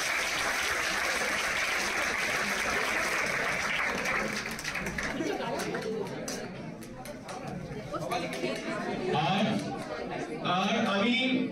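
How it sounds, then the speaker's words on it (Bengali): Audience at a Critical Care Day celebration event clapping for participants, a dense steady round of applause that fades midway beneath crowd chatter, then swells again near the end. "সবাইয়ের জন্য একটা আগে বড় হাততালি হোক সবার জন্য"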